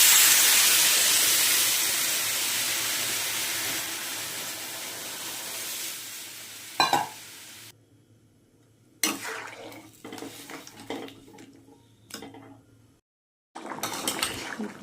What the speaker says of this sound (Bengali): কষানো হয়ে গেছে, এবার আমি এর মধ্যে জল দিয়ে দিই।